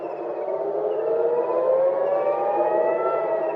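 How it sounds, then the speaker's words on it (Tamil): Air raid warning sirens wail in Tel Aviv, a sustained tonal siren rising slowly in pitch and holding steady, heard from a distance with no speech. "செவ்வாய்க்கிழமை டெல் அவிவிலும் எச்சரிக்கை சைரன்கள் ஒலித்தன"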